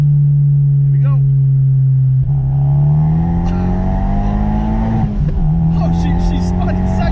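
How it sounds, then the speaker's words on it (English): A big-turbo Fiat Abarth 124 accelerating hard, its engine drone loud and close, climbing steadily in pitch with a brief dip partway through and rising again. "it's pretty good at spinning the tires. You were already moving and it still spun."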